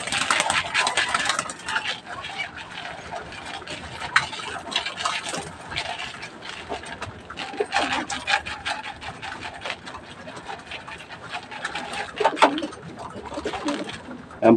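Pigeons peck at grit feed, making a dense, busy patter of small taps and scraping on a hard surface with soft coos mixed in, close and continuous.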